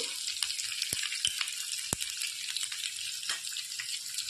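Garlic, curry leaves, red chilli and asafoetida fry in hot oil for a tempering, giving a soft, steady sizzle scattered with small crackling pops, fairly quiet and with no talking.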